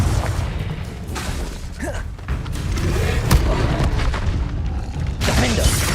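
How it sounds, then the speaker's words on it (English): Confringo explosion spells from the Hogwarts Legacy video game burst and thud over a steady bed of game battle noise, with a sharp blast near the middle and several booming impacts throughout. "Confringo!"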